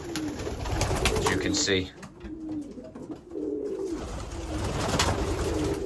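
Young birds in a loft give soft, repeated throaty coos, close by, while someone talks over them and briefly pauses.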